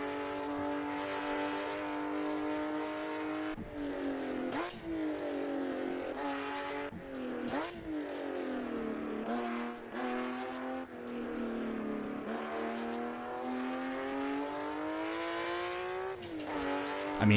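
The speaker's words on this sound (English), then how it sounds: "It's a bit more rattly than a modern Porsche" A WSC Legends race car driven in Assetto Corsa at Riverside, its engine droning loudly and continuously with rising and falling revs, sharp throttle blips and gear changes, slightly rattly in tone, with no talking.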